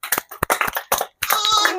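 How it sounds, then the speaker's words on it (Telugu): A group of children at a classroom game clap their hands in short uneven bursts, then break into a dense round of applause, near and fairly loud, with a voice mixed in. "ఇంకోసారి క్లాప్స్ కొట్టండి"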